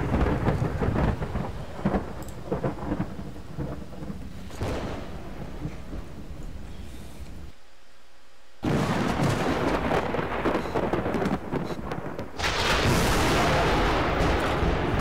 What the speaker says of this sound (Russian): Да что ж так молния это бахает?